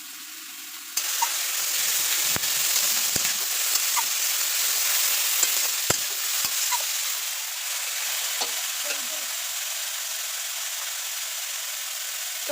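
Food cooking in a pan with coconut and being stirred, a steady broad sizzle with sporadic clicks and scrapes of a utensil against the pan, close and even throughout, with no voices.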